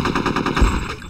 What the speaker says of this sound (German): Von wo schießen die bitte?